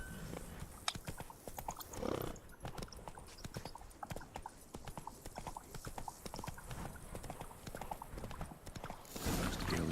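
Hoofbeats of Roach, a horse in The Witcher 3: Wild Hunt, clip-clopping in a steady rapid rhythm up close, with a brief whinny and some movement noise; no talk.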